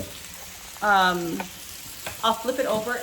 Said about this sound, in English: this is going to cook for about 3 minutes or until it gets nice and golden brown